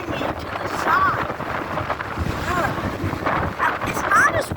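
Strong coastal wind gusts buffet the microphone at North Cape on May Bay, a steady roaring rush with surf underneath, while a voice speaks over it.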